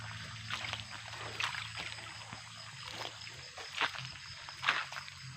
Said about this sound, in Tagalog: ang mga tubig niya nag-agas-agas sa kanang sa may bato, nang gawas ang tubig sa may bato